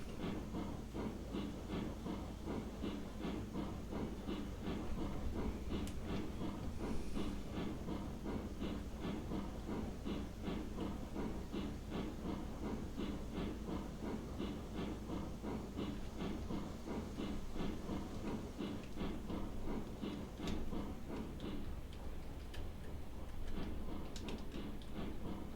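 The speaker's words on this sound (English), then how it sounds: "We are a heavy train." A heavy steam train in Railroads Online rolls along with a dragging brake still applied, its steady rhythmic clickety-clack of wheels over rail joints running continuously with a hissing steam undertone.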